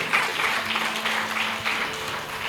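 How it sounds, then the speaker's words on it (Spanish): A church congregation applauding in praise during a sermon, a sustained wash of many hands clapping at moderate volume for a couple of seconds, with no voices over it. "Dale fuertes palmas de alabanza a Jesús."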